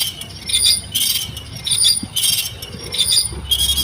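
A brand new dual clutch transmission is turned over in a workshop, giving a rhythmic, gritty scraping and grinding with bright metallic rasps that repeat in pulses, close and fairly loud.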